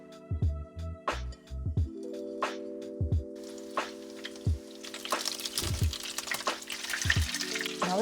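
Meat fries in a hot pan. Steady tonal sounds with short thumps come first, then a bright crackling sizzle takes over and keeps bursting through the rest.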